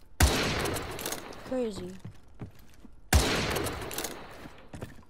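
Two loud bursts of gunfire in the video game Modern Warfare 2, each starting with a sharp crack and dying away over a couple of seconds, with a short exclamation from a man between them.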